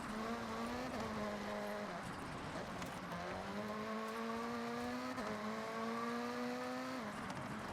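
A car engine in a Forza Horizon racing game on an off-road speed zone, droning steadily and loudly throughout, its pitch climbing through gears with brief dips at each shift.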